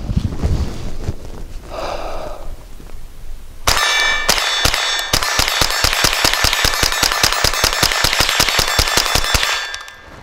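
Semi-auto .22 rounds striking a steel target about 20 yards away, a long rapid string of sharp ringing clangs in steady rhythm, preceded by a softer snort-like noise and fading at the end.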